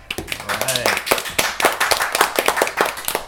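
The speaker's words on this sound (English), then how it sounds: "Can I get a big round of applause for yourselves?" Small group of kids on a podcast panel clapping for themselves, a brisk scatter of hand claps mixed with voices and laughter close by.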